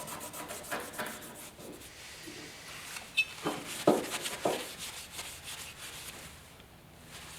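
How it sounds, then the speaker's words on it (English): A cloth lightly rubs the surface of an old wooden desk during refurbishing, giving soft, faint, irregular scrubbing strokes that swell briefly in the middle of the clip. "I'm not going to rub too hard here."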